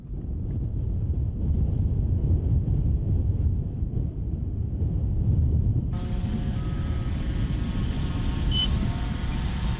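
Gusty wind buffets the microphone at a model-aircraft flying field on a windy day, a steady low roar throughout, joined about halfway by faint higher whining tones from a nearby machine.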